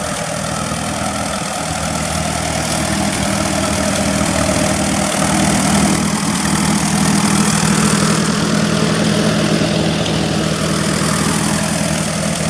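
An Allis-Chalmers WD tractor engine idles steadily after startup, parked by a lean-to, with a loud, close, even low rumble and a constant mechanical drone that holds throughout.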